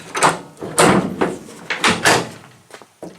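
Tailgate latches on an OBS Chevy Silverado shortbed truck being worked open, giving a series of close metallic clunks and rattling knocks spread across a few seconds, with no talking.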